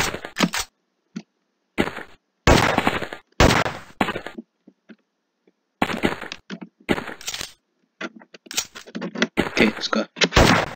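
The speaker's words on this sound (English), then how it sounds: "It's a sniper." Sniper rifle gunshots in the video game Gun Mayhem 2, sharp loud cracks in several separated bursts with gaps of silence between them, alongside other game effects.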